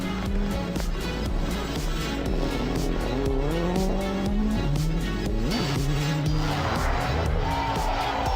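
Rally cars race through a rain-soaked, muddy night stage at Rali Serras de Fafe 2016, engines revving and shifting continuously with rising and falling pitch, tires squealing, loud and close throughout.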